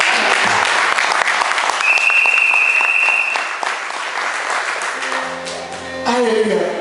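A live audience at a French-language gathering claps and cheers in a loud, dense, continuous wash of applause, with a shrill whistle partway through and the clapping easing slightly toward the end.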